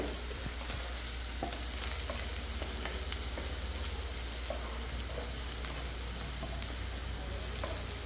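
Liver frying in a pan, a steady, close crackling sizzle with scattered sharp pops and occasional stirring scrapes running the whole time, with no voices.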